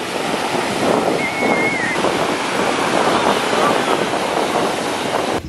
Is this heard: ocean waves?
yes